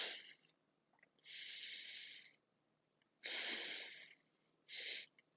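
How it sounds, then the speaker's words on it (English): Slow, deep breathing during a core exercise: three long, loud breath sounds, each lasting about a second, separated by quiet pauses, with no talking. "breathing down deep"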